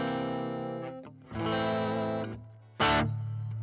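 An electric guitar through a JHS Morning Glory overdrive pedal plays a few sustained, gritty chords, close and clear, with a sharp strummed attack near the end.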